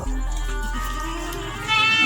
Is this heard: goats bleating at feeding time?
yes